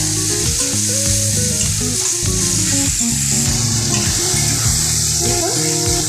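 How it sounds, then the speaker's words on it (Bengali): Chopped onions fry in a pan for mutton curry, a loud, dense, continuous sizzle with steady crackle and occasional stirring, close up, with no speech over it. "ভালো করে পেঁয়াজটাকে ভাজা করে নেব"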